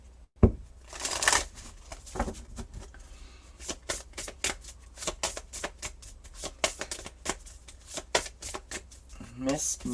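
Oracle cards are shuffled by hand in a rapid series of crisp riffling snaps and flicks, close and fairly loud, with irregular bursts continuing throughout.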